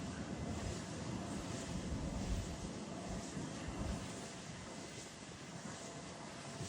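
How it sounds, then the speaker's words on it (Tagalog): Strong wind roars outdoors near windmills, a steady broadband rush with gusty swells that buffets the microphone throughout, loud and continuous with no talk. "Lakas ang hangin ngayon mga idol."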